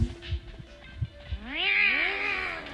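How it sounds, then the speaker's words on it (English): Cat meows in the video game Identity V: a few soft thumps, then a loud rising-and-falling meow with rich harmonics that swells and trails off, heard alone without speech. "how can no one hear that cat?"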